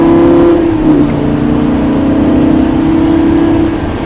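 A loud, sustained Lamborghini LP560 engine roar at full throttle on a racetrack, holding a high steady pitch with a slight shift, close and without speech.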